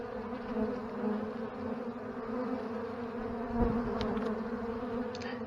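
Honeybees from a strong Ohio hive hum steadily at the landing board, a dense, continuous drone of many wings nearby, with occasional individual buzzes passing close.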